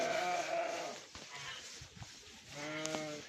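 Sheep bleat repeatedly at a hay manger on a farm, loud wavering calls at the start and again near the end with quieter rustling and movement between.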